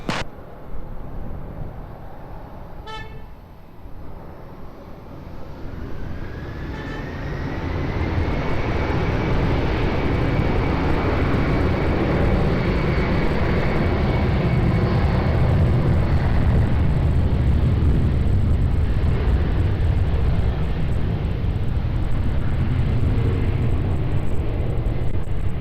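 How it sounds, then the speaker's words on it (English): At Lisbon Airport, an airplane takes off from runway 20, with a loud, broad jet engine roar that builds after a few seconds and holds steadily, heard from a distance outdoors. "runway 20, clear for takeoff"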